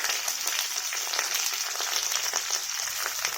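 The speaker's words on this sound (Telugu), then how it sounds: "శనగపప్పు వేసుకొని ఆయిల్లో ఫ్రై చేసుకోవాలి" Onions, curry leaves and chana dal fry in oil for bhindi fry, giving a steady close sizzle with faint crackles and occasional stirring, no voices.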